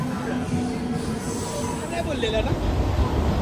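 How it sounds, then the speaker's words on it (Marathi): A train rumbles into a station with a low, steady roar and faint squealing of wheels, while people's voices murmur nearby. "ट्रेन आली."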